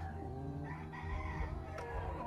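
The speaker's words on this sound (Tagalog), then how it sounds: "May manok pala dyan sa inyo sa loob." A rooster crows faintly in the background from inside a house, a drawn-out call over low room noise and rumble.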